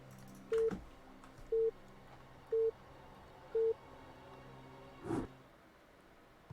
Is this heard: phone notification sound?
yes